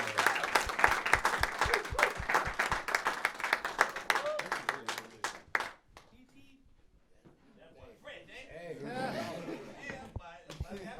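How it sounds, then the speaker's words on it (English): A live audience at a Chicago storytelling event claps for guest Corey, with distinct claps for about six seconds that fade into quiet chatter and a few voices. "Y'all give Corey a round of applause."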